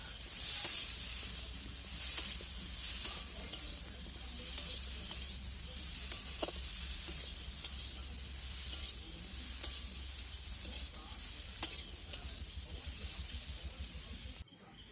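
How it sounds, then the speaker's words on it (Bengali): Ground mustard paste sizzling in a pan for a Bengali home-cooked dish, a soft steady hiss with regular scraping and tapping stirs of the spatula, close but fairly quiet, without speech. "আর এবার এই সর্ষে বাটাটা দিয়ে একটু নেড়ে চেড়ে জল দিয়ে দেবো"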